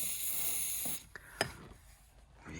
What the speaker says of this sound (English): so I've got this silicone spray. This is good stuff, and I'm just going to spray it in under here.